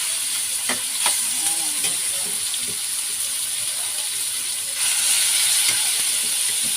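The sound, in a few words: pork adobo sizzling in a frying pan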